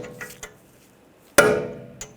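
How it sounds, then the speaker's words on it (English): A hammer taps a punch to peen over the axle nut during a front left CV axle replacement on a 2009-2010 BMW 535i xDrive 3.0L L6: light ticks, then one sharp metallic strike ringing out briefly, up close. "Just give it a tap with a hammer."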